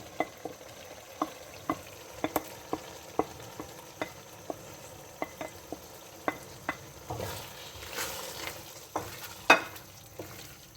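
Soft sizzling of boiled mash dal frying in a pan, with regular scraping taps of a spoon stirring, fairly close and quiet.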